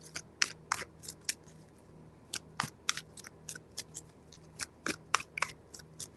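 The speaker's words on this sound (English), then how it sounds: "Three shuffles." Tarot cards being shuffled by hand, a quiet run of crisp, irregular snaps and flutters in quick bursts with short pauses between them, close up and with no talking.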